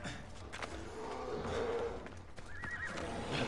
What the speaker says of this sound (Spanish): maldito caballo, es obvio que no haga lo que debería